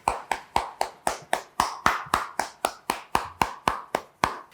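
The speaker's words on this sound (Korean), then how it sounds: "우리 하나님께 감사와 영광의 박수를 올려드리겠습니다." Church congregation clapping in praise at the close of a Sunday worship service, about fifteen sharp, evenly paced claps in unison, close and clear with no talk.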